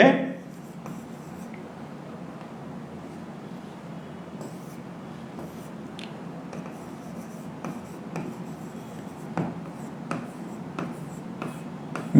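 A chalk or marker on a classroom board during a lecture on international borders, steady scratchy strokes with sharp taps scattered through the twelve seconds, close and moderately loud.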